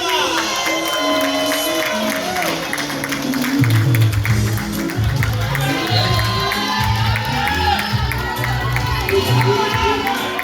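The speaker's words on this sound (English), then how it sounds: "Let's get a round of applause." Wedding guests cheer and applaud indoors, a crowd roaring with whoops and shouts over music, loud and continuous throughout.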